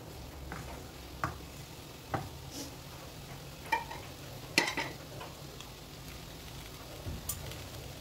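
Potatoes and peas cook gently in a pan over a low flame, a soft, faint sizzle broken by scattered light clicks and taps of a spoon against the pan, with no voices.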